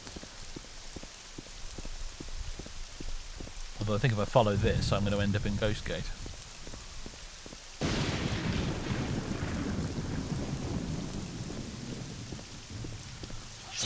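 Steady rain patters throughout the Morrowind game world with a rolling rumble of thunder partway through, while someone talks over the weather.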